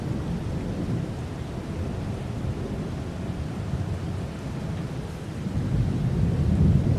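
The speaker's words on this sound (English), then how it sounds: "Well, one thing is good is at least thunderstorm" Steady rain with low rumbling thunder throughout from Farming Simulator 22, swelling louder toward the end, with no voices.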